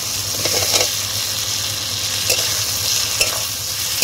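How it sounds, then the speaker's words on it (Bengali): Boiled potatoes are stir-fried with spices for alur dom, giving a loud, continuous sizzle with soft, intermittent stirring scrapes close by. "আলুগুলো দেওয়ার পরে কিন্তু বেশ খানিকের সময় আমি কষিয়ে নেব মশলার সঙ্গে"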